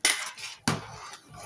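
Metal ladle scraping and clinking in a steel pot while toor dal rasam with spice powder is stirred, two sharp close clanks followed by fainter scraping.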